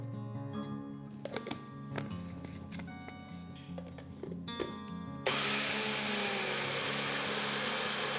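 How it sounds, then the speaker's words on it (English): A kitchen blender grinding soaked rice with salt starts up partway through, a loud, steady whirring roar over the last few seconds after quieter tones and clicks. "I'm going to add the soaked rice into the blender, and also I'm going to add salt with this, and I'm going to blend it"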